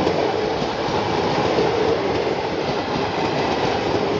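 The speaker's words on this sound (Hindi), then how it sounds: "जानकी एक्सप्रेस।" The Janaki Express passenger train passes at a station without stopping, giving a loud, continuous roar of wheels and rail rumble with rhythmic clatter throughout, no talking.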